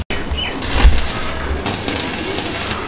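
Pigeons sold at a wholesale pigeon market in Bangladesh give low, soft coos. Occasional wing flutters rise over a steady busy background, with no talk.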